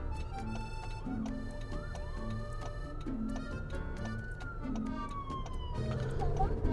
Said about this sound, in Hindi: आज तो हर तरफ एम्बुलेंसेस और फायर ब्रिगेड नज़र आ रही हैं।